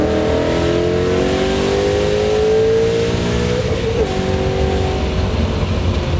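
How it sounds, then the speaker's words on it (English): A supercharged 2013 Ford Mustang GT with a Coyote V8, still fitted with resonators, roars loudly and continuously as its engine revs and pitch climbs, close and dominant throughout. "the Coyote motor is still stupid loud"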